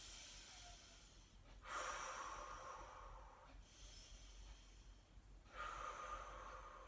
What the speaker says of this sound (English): We'll take a couple of nice deep breaths here.